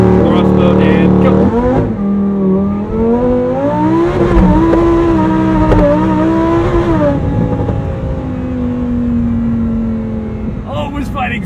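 Supercharged 840-hp Lamborghini Huracan STO launching hard from a standstill for a 0-60 run with traction control off, its engine loud and close, revving up through rising gear pulls over several seconds, with brief speech near the end.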